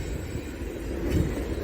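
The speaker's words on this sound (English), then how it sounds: "I've started this one off by showing you a train." A passing train heard outdoors as a steady, loud rumble with low clattering rolling noise throughout, close by, partly buffeted by wind on the microphone, no talking.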